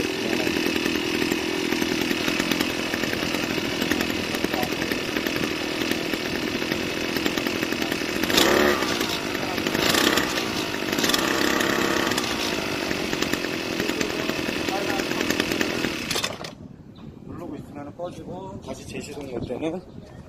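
A small two-stroke brush cutter engine runs loudly and steadily at high revs for a long stretch, then cuts out abruptly, leaving quieter talk.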